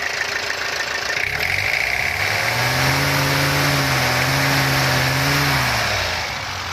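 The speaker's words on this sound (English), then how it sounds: "That's like a normal idle." A Perkins diesel engine in a Plymouth car idles steadily up close, its low drone holding even for several seconds with a slight rise in pitch near the end.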